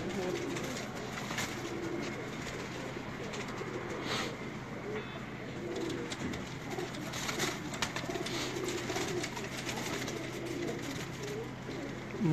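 A pet pigeon coos softly in a loft on a hot day, low repeated throaty coos over a steady hiss of background noise, close but gentle, with no talking.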